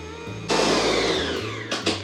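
An electric mixer beats keto vanilla cake icing with butter, whirring loudly in one sustained run after a quiet start, then stopping and kicking in for two brief bursts near the end; no voices.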